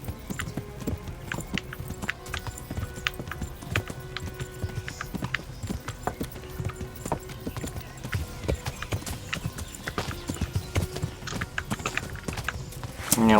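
A horse's hooves clip-clop in a steady, quick rhythm in the Kingdom Come: Deliverance video game, loud and constant throughout, with a brief whinny near the end.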